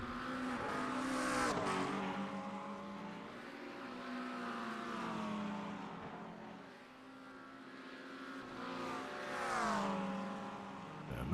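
Race cars roar around Road Atlanta in a racing video game, several engines howling together and rising and falling in pitch as they accelerate and shift, loud and continuous with no break.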